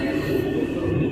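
Lahore Orange Line metro train, a six-car urban rail service, gives a steady low rumble and hum of running on the track, continuous and fairly loud throughout with no talk.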